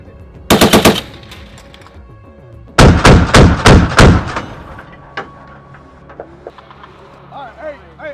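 A US Marine test-fires an M2A1 .50-caliber heavy machine gun: a short burst, then a longer burst of about five booming, close rounds with a heavy echo, followed by quieter clanks and voices.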